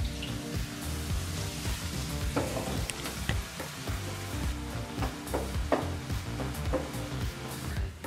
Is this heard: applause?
no